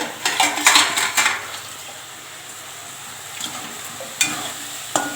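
Ingredients sauté in a pan as a spoon stirs and clanks against the metal, a few clustered scrapes and knocks at the start and again near the end over a quiet sizzle, with no talk.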